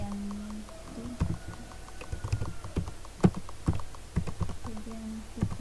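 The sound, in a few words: typing on a computer keyboard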